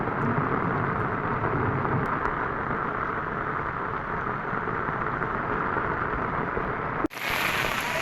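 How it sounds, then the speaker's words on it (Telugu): Heavy downpour in Medak district, Telangana, roars as a dense, unbroken hiss of rain on surfaces, loud and steady until an abrupt break near the end. "మెదక్ జిల్లా హవేలీ గన్పూర్ మండలంలో కుండపోత వర్షాలు కురుస్తున్నాయి."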